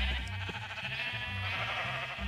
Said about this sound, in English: now we have sheep in all the colors of the rainbow